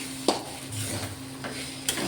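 A spoon stirs and mixes damp flattened rice (chira) in a pan. Soft scraping sounds are broken by two sharp metallic clinks against the pan, and there is no talk.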